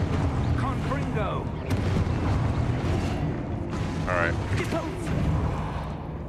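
A Confringo fire-blast spell in the Hogwarts Legacy video game bursts amid dense, noisy combat sounds with a shouted spell name and other voices, loud and continuous throughout.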